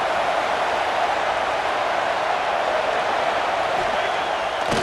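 Dense, steady roar of a packed stadium crowd in a college football video game, a loud broadband wash holding constant for the whole stretch with no clear breaks or individual voices standing out.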